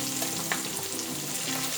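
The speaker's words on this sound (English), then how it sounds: "I chopped it up as much as I could with a spoon, and I just let it brown a little bit." Chopped sausage browns in a pan on the stove, giving a steady close crackling sizzle with small pops and faint stirring, and no talking.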